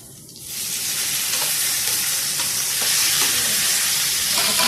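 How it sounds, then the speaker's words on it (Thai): Garlic and chili hitting hot oil in a pan for a Thai rice noodle curry dish, a quiet start then a sudden loud, steady sizzle and crackle with faint stirring that holds close and strong throughout. "ใส่ลงไปเจียวเลยพี่น้อง"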